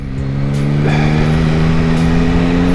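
Yamaha MT-09 motorcycle engine pulling hard under throttle, a loud, close, sustained tonal drone with a steady pitch.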